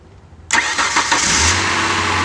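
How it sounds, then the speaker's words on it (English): A Hyundai Santa Fe with a crank-no-start fault cranks through a jumpered starter relay, then catches suddenly and settles into a loud, steady idle close by. "So let's see if this car will start."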